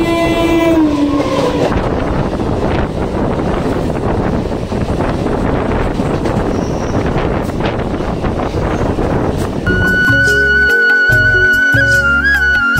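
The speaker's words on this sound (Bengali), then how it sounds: "আর নির্ধারিত সময় আমাদের ট্রেন ছেড়ে দিয়েছে।" A local train on the Sealdah to Jaynagar line running at speed, with a loud, continuous rumble and rattle of the carriages and wind buffeting. A sustained horn blast sounds near the end.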